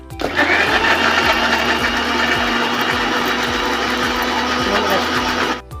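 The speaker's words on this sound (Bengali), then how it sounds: "পেঁয়াজ ভালো করে মিক্সিতে গ্রাইন্ড করে নেব" A kitchen mixer grinder whirs steadily as it grinds onion into a spice paste, a loud continuous motor drone with rhythmic low clunks, running for several seconds before cutting off.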